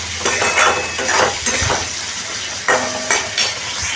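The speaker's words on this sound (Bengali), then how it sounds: "মধ্যে আমি টমেটো একটা কুচিয়ে দিয়ে দিলাম। দিয়ে এটাকে আবার একটু কষিয়ে নিচ্ছি।" Chopped tomato sautéed with shrimp in a hot pan gives a loud, close sizzle with intermittent spatula scrapes and stirring clatter across a few seconds, no voices.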